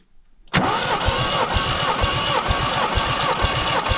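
A VAZ 2101 engine fires up after a moment of silence and runs loudly and steadily with the throttle held open, its rough pulsing idle close and continuous.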